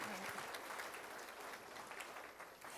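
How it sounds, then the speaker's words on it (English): Audience applause for an honoree at a Cameron House speech event, a dense, steady wash of many hands clapping that continues evenly through the whole stretch without voices. "Let's give her a round of applause, everybody."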